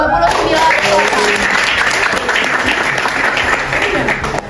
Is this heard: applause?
yes